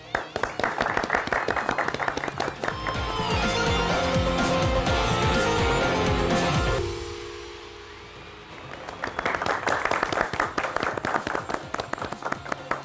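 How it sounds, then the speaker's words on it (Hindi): A studio audience at a cricket talk show breaks into dense, sustained applause that swells and then fades. After a short lull, a second burst of rapid clapping builds again, loud and close throughout. "बड़ी तालियां इनकी ऐसे लग रही है जैसे फुहार हो रही है ना"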